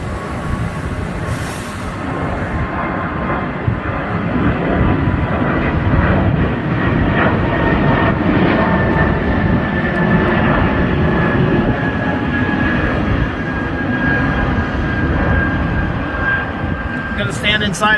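A fixed-wing airplane flies overhead outdoors, its loud broad engine roar swelling in and holding steady for the whole stretch with a faint whine on top, fading slightly near the end.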